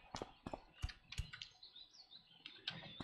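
Quick, uneven keystrokes on a backup computer keyboard during play of classic World of Warcraft, near and quiet, arriving in short bursts with small gaps between them.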